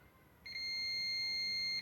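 A Brastemp microwave oven control board on a bench test gives a single steady electronic beep lasting over a second, clear and close, with no talk over it.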